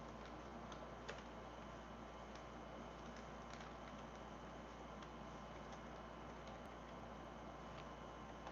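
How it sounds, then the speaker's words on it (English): Computer keyboard typing, soft scattered key clicks at an irregular pace over a steady background hum, faint and indoors. "let me just type in these commands"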